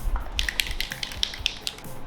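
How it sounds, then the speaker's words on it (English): Flex Seal sprayed from an aerosol can onto a scrap upholstery-foam pumpkin, a steady hissing spray broken by short crackling bursts, close and alone. "The next step on this guy is just to hit it with some Flex Seal, and that's going to give me a nice paintable surface and seal up this foam."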